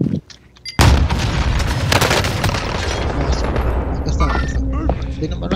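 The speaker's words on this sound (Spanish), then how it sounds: "Launching explosives." Explosions and gunfire in the video game Call of Duty: Warzone: after a short quiet lead-in, a loud close blast hits, followed by a dense, rumbling barrage of further booms and crackling shots that continues to the end.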